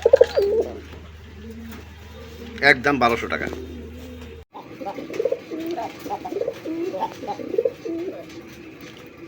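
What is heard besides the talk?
red-eyed Rasgolla pigeons cooing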